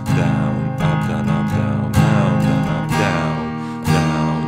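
Acoustic-style guitar strumming a pattern for a song, steady down-up strokes with accented chord hits about once a second, close and full, with no voices.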